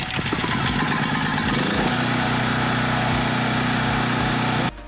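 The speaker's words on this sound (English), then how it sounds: "now we got to turn on the generator so we can get power so we can blow air through the system" A portable generator used for pool removal work runs steadily close by, a loud droning engine hum with a brief rough start before settling into an even idle, then cutting off at the end.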